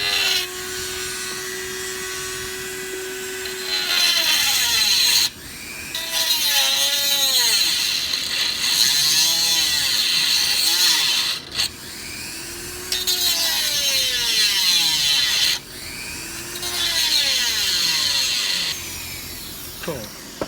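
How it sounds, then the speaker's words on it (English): A cutting wheel grinds a slit into a front passenger seat bolt in several long, loud bursts, each with a high whining screech. Brief pauses separate the cuts, and the wheel's pitch sweeps as it spins up and down. "a cutting wheel, and I'm going to see if I can put a crease in the bolt"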